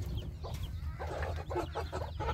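Several chickens cluck and murmur in short bursts close by, over a low background rumble.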